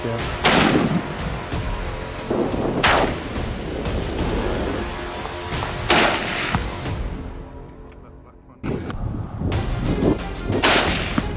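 Rifle shots crack across open Colorado high plains rangeland during a coyote hunt, several loud separate reports spaced a few seconds apart, each trailing off into wind, with a brief quiet stretch before the firing resumes.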